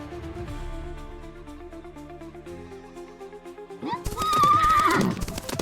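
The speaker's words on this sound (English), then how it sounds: "I woke up to the sound of galloping horses." In the top-down Wild West action game Dust & Courage, calm music plays before horses burst in near the end: loud hoofbeats, whinnying and neighing over the score.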